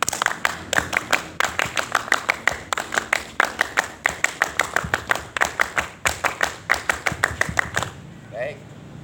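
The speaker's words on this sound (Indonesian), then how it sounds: "3 kali tepuk pramuka." A Scout group claps in a fast, tightly synchronized rhythmic pattern, many sharp claps in repeating bursts, loud and close, ending with brief voices.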